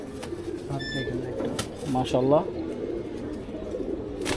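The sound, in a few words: pigeon cooing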